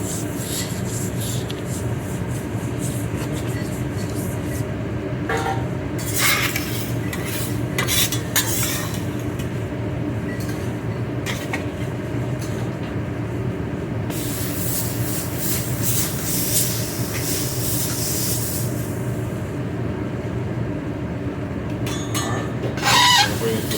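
Tofu frying in a pan, a continuous sizzle with scattered pops and sharp spatters, loudest in a long burst midway, with the pan stirred now and then.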